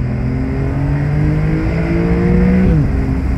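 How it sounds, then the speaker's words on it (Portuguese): A Porsche 911 Carrera S engine blips and drops a gear, loud and close, its tone climbing and then falling sharply in a smooth downshift with no talk. "Gosto muito do downshift deste carro"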